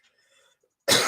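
A single sharp, close cough bursts out at the very end after near silence, from a person with a throat tickle who is sucking on a cough drop.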